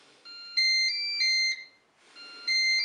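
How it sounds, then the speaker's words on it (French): A Moulinex Cookeo multicooker gives its start-up beeps as it is switched on in a home kitchen: a short run of clear electronic tones, a brief pause, then more tones, near and fairly loud. "J'allume mon cookéo."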